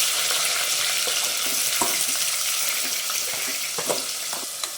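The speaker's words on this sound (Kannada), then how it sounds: "ಆಯಿಲಲ್ಲಿ ಚೆನ್ನಾಗಿ ಫ್ರೈ ಆಗಬೇಕು. ಆನಿಯನ್ ಫ್ರೈ ಆಗಿದೆ." Onions, green chillies and cumin frying in oil in a pan, a steady broad sizzle running throughout with small crackles and pops, close and fairly loud, no talking.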